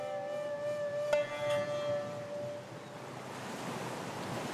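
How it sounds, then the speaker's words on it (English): Chilly Pacific Ocean waves lap on a rocky Japanese shore as a steady broadband wash, with a faint tonal hum fading out early. "Hear those cool, soothing waves? Yes, that's the chilly Pacific Ocean lapping up on a rocky Japanese"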